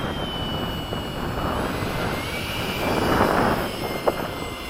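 An RC model F-104 jet flies at Bayside, its steady engine roar filling the air and swelling louder as it passes, with no talking.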